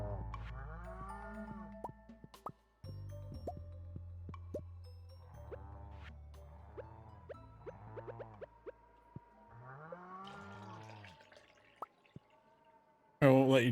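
A cow moos repeatedly in the farming video game Stardew Valley, short rising and falling calls in a quiet game scene, with light dripping sounds and a voice talking in between.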